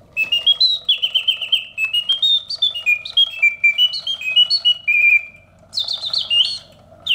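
A Reuge platinum model singing bird cage automaton with an old, dirty, unlubricated mechanism produces loud, close mechanical birdsong. Rapid whistled chirps and trills slide up and down in pitch, with a brief pause before a fresh run of higher tweets.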